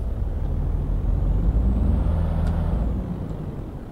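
Truck engine in Euro Truck Simulator 2 labouring low in a geared-down climb, a loud rumbling drone that swells midway and eases off, with a faint airy hiss on top and no talking.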